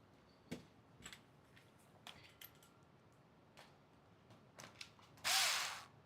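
Screws go into an RC build with faint, scattered ratcheting clicks and small tool taps, close and quiet, ending in a brief louder whirring burst.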